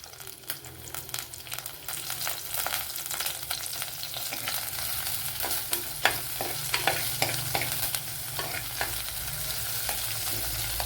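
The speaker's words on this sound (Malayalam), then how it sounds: "ഇനി ഇതൊന്ന് നല്ലപോലെ ഒന്ന് മൂത്ത് വരണം" Green chilli, ginger and curry leaves sizzle and fry in oil in a pan for sardine curry, a steady close hiss broken by repeated scraping stirs, with no talking.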